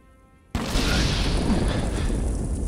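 A Molotov cocktail bursts into flame in Falling Skies with a sudden loud whoomp, followed by a sustained roaring, crackling fire rush.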